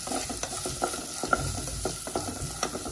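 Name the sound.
sautéing chopped onions with salt for squid roast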